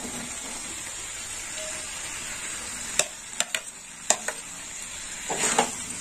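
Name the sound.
stir-frying fried potatoes with vegetable stems in a pan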